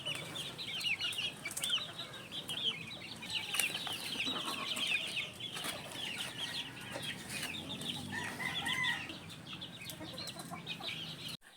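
Chicks and chickens cluck and peep continuously in a scratch pen, a busy overlapping chorus of high chirps and lower clucks, fairly close, with no talk.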